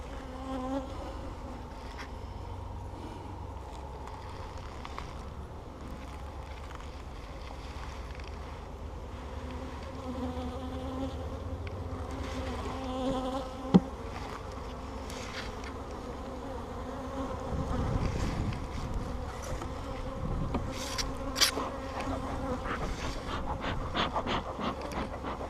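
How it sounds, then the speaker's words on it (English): Dense, steady droning buzz of many honey bees inside a hive during a spring inspection, close and continuous for the whole stretch, with a brief knock partway through and the hum swelling louder near the end. "A lot of bees in this hive, and there's about to be a whole bunch more"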